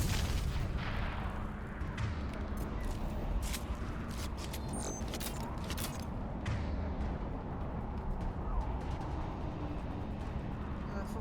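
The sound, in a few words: gunfire in video game Mass Effect 2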